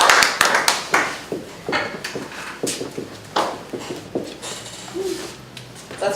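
Scattered hand claps from a small group at a startup meetup round table, irregular and fairly close, forming a short uneven burst of clapping with no talk over it.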